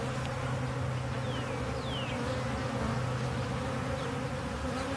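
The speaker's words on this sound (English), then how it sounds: "A lot of bees out in front doing their homing and coming in back into the hive." Dense swarm of honey bees buzzing steadily in front of a hive entrance, a continuous close droning hum with occasional individual bees zipping past, no voices.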